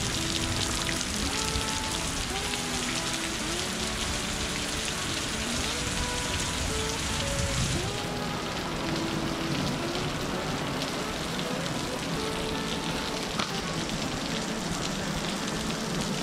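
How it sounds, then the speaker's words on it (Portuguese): Steady rain pours down, splashing and hissing continuously as water runs off a garage gutter, with a constant close patter and no pauses. "Deus mandou chuva. Já tá correndo a água aqui, ó, na goteira"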